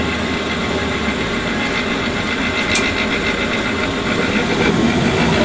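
A gas furnace runs during its ignition trial at a home HVAC tune-up, giving a steady, close blower and motor drone with a light vibrating texture and a brief click partway through.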